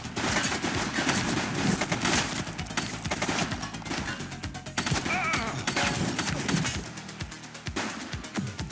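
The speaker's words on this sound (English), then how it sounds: "She's shooting!" Sustained gunfire from a fleeing suspect during a police chase in The Precinct, dense overlapping shots crackling steadily for the whole stretch, loud and close, with a busy street-like background underneath.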